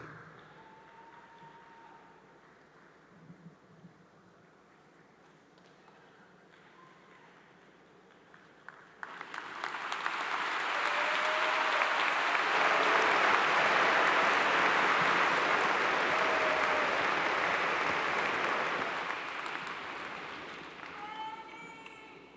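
A crowd at a Clemson University fall graduation ceremony applauds new master's degree recipients, rising from quiet hall murmur into a long, loud, dense wash of clapping and cheering that fades near the end.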